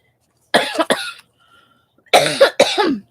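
Two pairs of sharp coughs from one nearby person, separated by a second of near silence.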